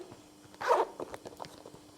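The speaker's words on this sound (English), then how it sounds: "Same, super good zipper." A single quick zipper pull on a pair of platform boots, a short bright rasp up close, followed by faint soft clicks and handling taps in an otherwise quiet room.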